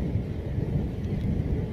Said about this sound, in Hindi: जैसे ही हम आए हैं अपने रूम में तो बारिश शुरू हो गई